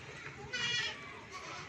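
Rajanpuri goat, an Ablak-patterned dairy doe on a goat farm, gives a short bleat at close range, with a bleat-like call following, set against farmyard background noise.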